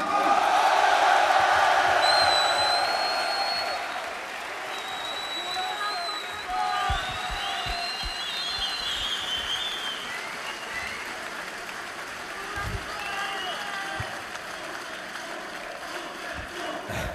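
Audience applause fills the hall at a StarCraft tournament grand final at the Grand Rex, loud at first and then settling into a steady, slightly softer ovation that carries on for the rest of the moment.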